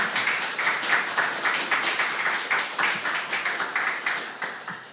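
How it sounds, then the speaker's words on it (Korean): An audience at a university church's closing worship service claps to welcome a missionary to the front, a dense, steady applause with a slightly rhythmic pulse that fills the room for several seconds. "우리 선교사님 나오실 때 박수로 환영하도록 하겠습니다."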